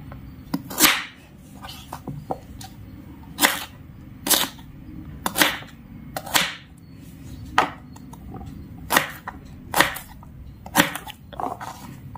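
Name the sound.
knife chopping radish into small pieces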